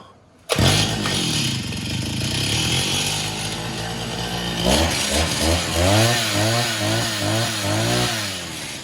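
A small engine is pulled over by hand and catches after a cracked connecting hose was replaced. It settles into a steady, loud running drone, with a rising and falling revving pulse toward the end and no talk.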